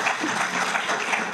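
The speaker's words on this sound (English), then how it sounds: "give her a round of applause, please." An audience at a gaming and fan convention claps steadily for a moment, a dense wash of applause with no voices on top.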